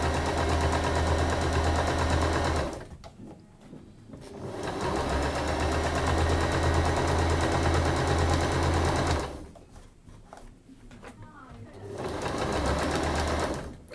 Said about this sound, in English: you can create this on the simplest of sewing machines